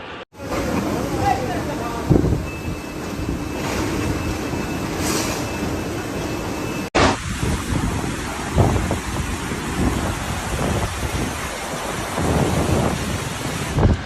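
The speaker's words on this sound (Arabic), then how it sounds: "شوفوا المطر عندنا كيف مكة يوم الجمعة الساعة 8 الصباح" Heavy rain and strong wind in Makkah on a Friday morning, a dense, continuous rush of rainfall and wind buffeting, with a cut partway through and talk faintly over it.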